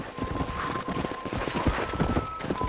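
A horse's hooves clip-clop at a steady trotting rhythm in the Red Dead Redemption video game, the repeated thuds close and clear under a thin game soundscape with a faint tonal hum.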